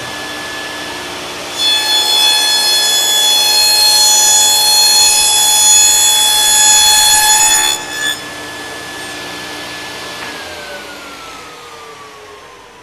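A table saw with a dado blade cuts a dado in wood, a loud steady whining buzz lasting about six seconds before the blade spins down.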